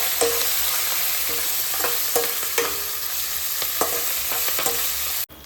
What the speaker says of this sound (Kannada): ಮೆಣಸಿನಕಾಯಿ ಎಣ್ಣೆ ಚೆನ್ನಾಗಿ ಬೇಯಬೇಕು